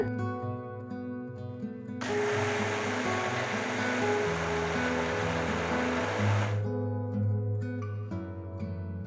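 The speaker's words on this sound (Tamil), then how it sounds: "ஒரு மிக்சர் ஜார்ல பாதி அரிசி, பருப்பு பாதி, கொஞ்சம் தண்ணி ஊத்தி நல்லா சாஃப்டா அரைச்சுக்கலாம்." A loud, steady whirring roar of a mixer grinder grinding rice and lentils with water into batter starts after a couple of seconds and runs for about four seconds before cutting off, over soft background music.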